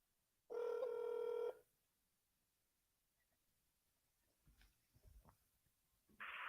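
A telephone is hand dialed for a cold call: one long steady tone sounds near the start, followed by quiet clicks and short bursts, then another tone begins at the end.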